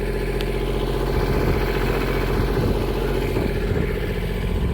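A diesel backhoe tractor engine idles steadily and close by, with a low rhythmic chugging throbbing the whole time and no voices.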